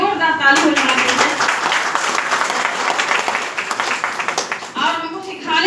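Loud, energetic applause from a seminar audience, many hands clapping close by in a continuous burst that briefly dips near the end before swelling again.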